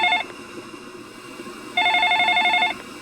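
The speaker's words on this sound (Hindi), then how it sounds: "तभी अचानक मेरे फोन की घंटी बज उठी।" A phone rings with a trilling electronic tone, a short burst at the start and then a longer ring a second later, clear over a quiet room.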